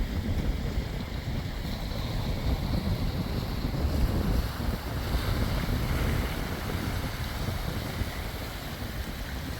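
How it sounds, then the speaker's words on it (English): Small ocean waves roll onto a sandy shore during a morning beachcombing walk, a continuous washing surf rising and falling gently, mixed with rough wind buffeting the microphone and no speech. "The waves coming into the shore."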